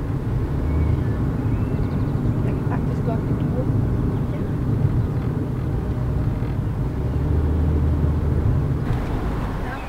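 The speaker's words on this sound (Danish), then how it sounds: "Jeg tror også, det er min bus, der kommer der." A city bus approaches as a continuous low engine rumble and road roar, steady and fairly loud throughout, with faint outdoor background and no clear talk.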